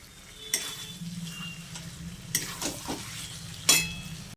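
Chicken stir-fried in a pan for matar chicken curry sizzles softly, with a few crisp spatula scrapes and clinks against the pan at uneven intervals.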